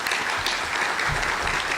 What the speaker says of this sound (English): a round of applause for both